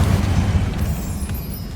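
A fiery Confringo blast from Hogwarts Legacy hits with a heavy low boom that rumbles and fades over a couple of seconds, loud and near, with no talking.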